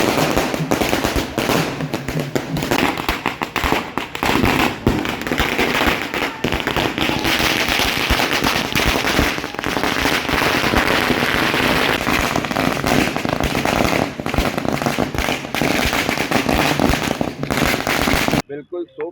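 Party workers at a Congress political welcome set off fireworks and strings of firecrackers, a dense, loud, continuous crackle of rapid bangs running almost nonstop, with a crowd and voices mixed underneath.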